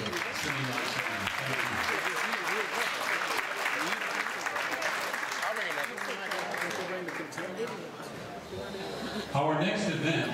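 An audience applauds at a school gala celebration, a sustained wash of clapping for about nine seconds that fades before a voice begins speaking.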